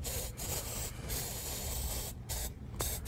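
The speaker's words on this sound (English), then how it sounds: "and I'm going to spray it right over this stuff right here." Cheap hairspray is sprayed in close, steady hissing bursts over handmade tropical model-scenery trees. Several short breaks separate the sprays.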